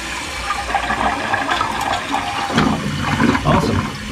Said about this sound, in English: That's all it flushes.